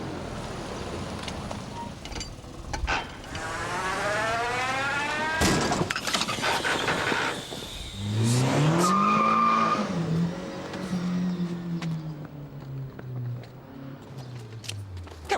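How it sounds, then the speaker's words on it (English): A Fiat Uno reverses and slams into a police car: rising engine whine and squealing tyres build to a sharp crunch and shatter of impact, then screeching skids trail off nearby. "A Fiat Uno just reversed into us, Sarge."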